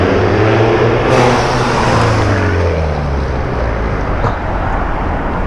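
A Volkswagen Mk6 GTI with a catless downpipe being driven hard around a parking lot, its loud, raspy exhaust roar rising and falling in pitch as the engine revs, close and continuous.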